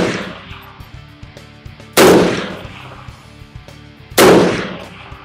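A Ruger SFAR .308 semi-automatic rifle fires two loud, sharp shots about two seconds apart outdoors, each blast trailing off into a long echo, with quiet background in between.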